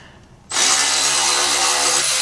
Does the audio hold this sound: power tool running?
yes